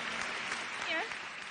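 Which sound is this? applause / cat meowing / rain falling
applause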